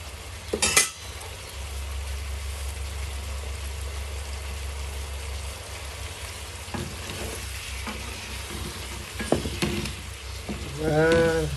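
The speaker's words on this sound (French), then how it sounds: "Mélange bien avec tout partout dedans. Tous les saucisses." Rougail saucisse with sausages, green onion and chopped chili is stirred in a sizzling pan, with steady frying hiss and occasional clinks and scrapes of a utensil against the pot.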